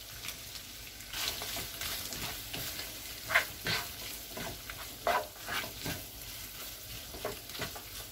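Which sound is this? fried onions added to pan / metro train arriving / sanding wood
fried onions added to pan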